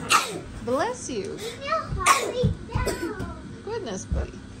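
A child's sneeze cuts through lively children's chatter and squeals, with a few short bursts of noise around it.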